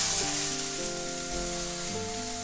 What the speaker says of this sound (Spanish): Y vamos a poner las 2 naranjas a asar.